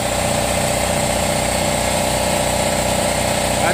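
An air compressor running in a home garage workshop, a steady loud mechanical hum with constant vibration and tonal drone throughout, close by and alone.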